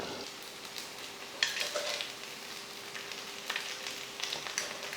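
Paniyaram batter frying in hot oil in the wells of a paniyaram pan, giving a steady soft sizzle with a few brighter crackling bursts and no voices.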